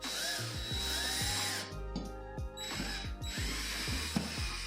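A power drill drives a screw through a pilot hole into a wall, whirring in close repeated bursts with ratcheting clicks and brief pauses between runs.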